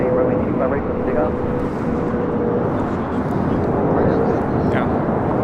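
A jet airliner rolls for takeoff on runway 25 right at LAX, its engine roar a steady, loud broadband rumble throughout, with radio voices and nearby talk over it.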